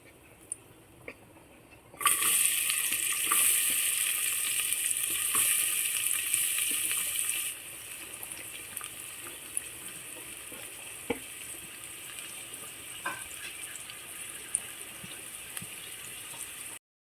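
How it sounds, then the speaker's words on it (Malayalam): Sliced onion drops into hot coconut oil in a pressure cooker on a stove, bursting into a loud bright sizzle that settles after several seconds into a quieter steady frying crackle with occasional pops. "ചൂടായപ്പോൾ ഇനി സവാള ഇടാം."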